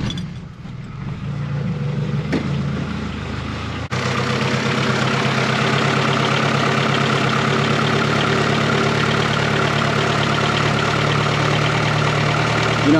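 A Honda H22 engine cranks, catches after a few seconds and settles into a steady, loud idle with a slight ticking rhythm, heard close up.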